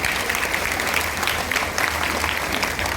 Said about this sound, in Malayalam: നല്ല കൈയടി നമുക്ക് കൊടുക്കാം